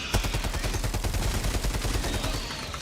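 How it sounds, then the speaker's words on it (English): Rapid bursts of automatic fire from a Gatling turret in a video game, loud and close, a dense rattling stream of shots that keeps going for the whole stretch with no talk over it. "There, my Gatling turret."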